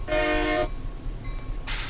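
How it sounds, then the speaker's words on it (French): A loud, steady two-tone train horn blast in Train Simulator 2015 sounds for about two-thirds of a second over a low engine rumble, then a second blast begins near the end. "Klaxon."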